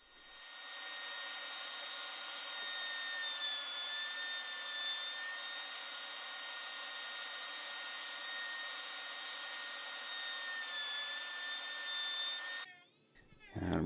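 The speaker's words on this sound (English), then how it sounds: "I'm using my little Dremel style tool here just to sand the outside to the same angle as the legs" A small Dremel-style rotary tool sands the outside of a wooden step stool part, a steady high-pitched whine held for about twelve seconds before it cuts off.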